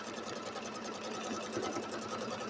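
A sewing machine stitches a quarter-inch seam in quilt fabric, a close, steady rapid whir with an even pulsing needle rhythm throughout.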